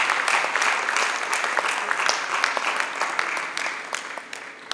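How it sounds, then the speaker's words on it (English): A workshop audience on research and academic writing gives a speaker a round of applause, a dense, steady wash of many hands clapping close by, fading slightly toward the end. "Please, can we give him another round of applause?"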